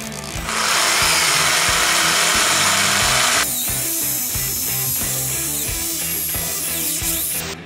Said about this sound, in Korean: 아까 이 나무 토막을 뾰족하게 깎아주도록 할게요